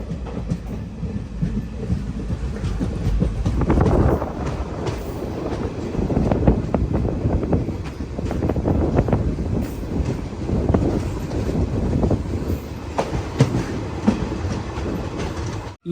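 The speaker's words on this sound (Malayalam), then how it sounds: "ട്രെയിൻ ഇപ്പോൾ ഒരു സ്റ്റേഷനിലേക്ക് എത്തിക്കൊണ്ടിരിക്കുകയാണ്" Chemmozhi Express train heard from inside a sleeper class coach, with steady wheel rumble and clickety-clack on the rails, wind rushing past, and the train running continuously at close range without speech.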